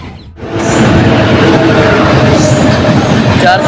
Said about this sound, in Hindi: फाइनली अपनी ट्रेन 20 मिनट डिले के साथ वो अराइव करी अपनी मेमो इंटरसिटी एक्सप्रेस ट्रेन